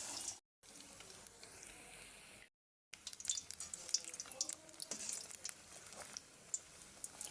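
Beetroot rolls fry in hot oil with a quiet, crackling sizzle and scattered small pops, interrupted by brief gaps of silence.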